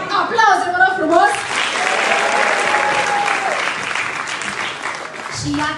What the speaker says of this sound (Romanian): Aplauze, vă rog frumos!